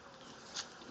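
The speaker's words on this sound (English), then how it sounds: "This one does have some bees." Honey bees buzz steadily around an open hive frame, a dense continuous hum close by with one brief louder pass of a nearby bee.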